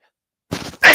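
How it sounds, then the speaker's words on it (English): A man lets out a single sharp sneeze, a short wheezy intake followed by a loud, close burst that ends abruptly. "I knew a sneeze was coming."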